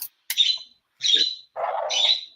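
A pet bird gives three short, bright chirping calls close by, each separated by a brief pause, in an otherwise quiet room.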